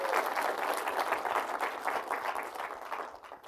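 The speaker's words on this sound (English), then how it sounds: "So please clap to that as well," A conference audience at a web developer event claps, a dense, continuous patter of many hands at moderate level that thins out and fades over the last second.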